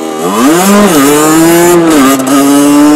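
A motorcycle engine revs loudly and close by ahead of a wheelie attempt, its pitch climbing, dipping and then holding high in a sustained whine. The engine is heard alone, with no talking.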